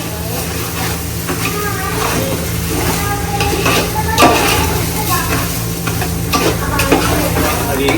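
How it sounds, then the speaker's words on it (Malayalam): Rice being stirred and fried in a pan for Palakkad-style chicken dum biryani, giving a steady sizzle with scraping stir strokes and a constant low hum underneath at close range. "ഫ്രൈ ചെയ്തുകൊണ്ടിരിക്കുകയാണ്."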